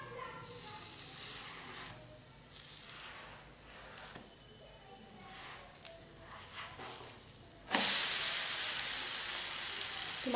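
Rava (semolina) uttapam frying in oil on a griddle, a soft steady sizzle throughout that swells sharply louder and brighter near the end, with no talk over it.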